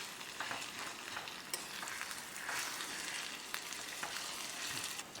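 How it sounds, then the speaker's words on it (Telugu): Grated raw mango frying in a pan for mango rice gives a soft, steady sizzle with light stirring scrapes now and then, quiet and close with no talking. "కొంచెం సేపు ఈ మామిడి తురుము ఫ్రై అవ్వాలండి బాగా"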